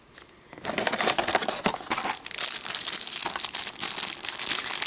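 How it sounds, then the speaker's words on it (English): Close, crisp crinkling and rustling of plastic packaging being torn open, busy and continuous for several seconds with no talking. "While I'm trying to open the bag with one hand, ain't gonna work."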